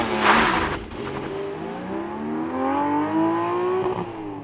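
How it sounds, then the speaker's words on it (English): A 2020 Porsche 718 Boxster Spyder with a 4-liter naturally aspirated flat-six launches hard under launch control, engine note climbing steadily in pitch and loud up close, with no talk. "2020 Porsche 718 Spyder. With launch control."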